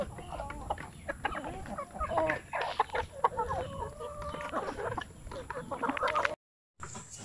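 Several young hens (pullets) cluck and chatter nearby in irregular bursts, with a faint steady hum in the background and a brief silent gap near the end.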